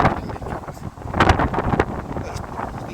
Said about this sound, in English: It's very windy suddenly, isn't it?